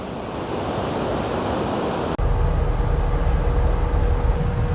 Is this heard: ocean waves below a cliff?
yes